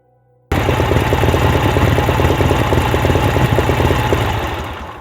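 A motorcycle engine runs steadily with a rough, pulsing knock, loud and close, starting abruptly and then slowly fading toward the end as it is parked on a street.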